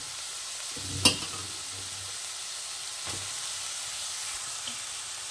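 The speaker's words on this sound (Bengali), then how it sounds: "এখন এর মধ্যে আমি সবজিটা দিয়ে দেব" Vegetables are added to shrimp frying in a pan. A soft, continuous sizzle runs throughout, with a sharp utensil clatter near the start and another fainter stirring knock a couple of seconds later.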